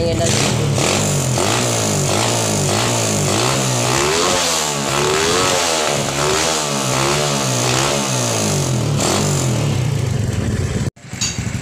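A modified Modenas Lagenda 110 motorcycle with a racing block and carburetor revs hard and loud up close, its pitch climbing and falling in repeated throttle blips for several seconds before cutting off abruptly.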